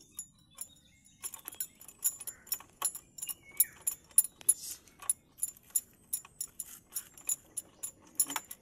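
A motorcycle ignition key is handled during a CDI fault check, giving a close, bright run of metallic jingles and clicks that repeat irregularly throughout, with no talking.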